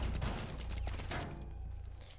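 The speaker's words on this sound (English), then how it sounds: "my bullets actually do shoot through the wood floor" Bursts of gunfire in Rainbow Six Siege punch through a wooden floor in rapid, crackling volleys that thin out and fade toward the end, with no voices.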